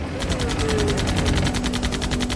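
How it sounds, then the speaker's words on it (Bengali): Rapid machine-gun fire rattles in a fast, even burst of close, loud shots, used as a sound effect in a Bengali horror adventure story about cursed ghost sailors at sea. "গুলি চালাও"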